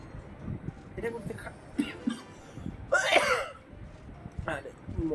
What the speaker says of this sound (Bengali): মরা দেখে তার কাশি উঠে।